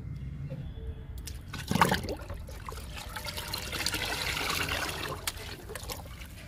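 Water poured into papaya peel liquid to dilute it, a steady trickling splash close by, rising briefly near the start and then running on evenly at moderate level.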